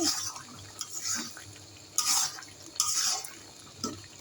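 Chicken chaat being stirred and mixed with ground cumin in a pan, soft scraping and wet shuffling strokes coming in uneven bursts, close and fairly quiet with no talking.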